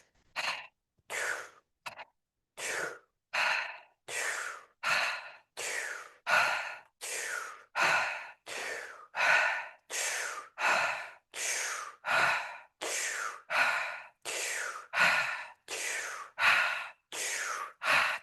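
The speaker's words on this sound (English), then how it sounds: "And then we start our fire breath." Fire breath exercise: a long series of forceful, sharp breaths, each a loud hissing rush through the nose or mouth, repeated in a steady quick rhythm of about one burst every half second to second, close and alone.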